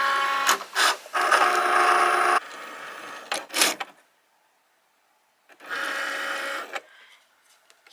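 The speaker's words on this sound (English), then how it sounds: "the machine's now going to perform the cutting portion" A Cricut cutting machine with a fine point blade cutting a bookmark, close whirring motor bursts with buzzing carriage movements, separated by short silences.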